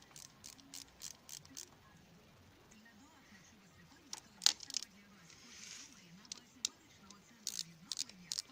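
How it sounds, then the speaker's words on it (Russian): Ratchet clicks and short metallic ticks come in bursts while the bolts on a Honda Dio scooter's variator cover are loosened, with soft background talk underneath. "Для того, чтобы снять крышку, нужно открутить эти все болты"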